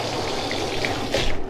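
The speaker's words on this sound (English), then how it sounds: "I'm going to turn the water back on, not on the dog, but against the side of the tub" Tap water running into a bathtub while a dog is being bathed, splashing against the side of the tub in a steady close hiss that swells louder toward the end.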